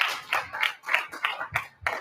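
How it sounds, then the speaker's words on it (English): A short burst of applause from a small group, scattered claps rising and falling for a couple of seconds. "Everybody, round of applause for Pappy."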